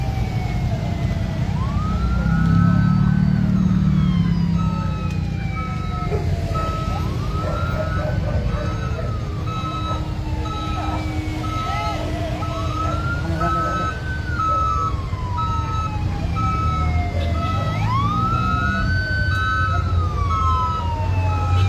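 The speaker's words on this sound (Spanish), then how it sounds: "Ya viene la otra ambulancia." Ambulance siren on a road at a crash scene in Tuxpan, Veracruz, wailing in repeated rising and falling sweeps over steady traffic rumble for the whole stretch, loud and fairly close, with faint voices beneath.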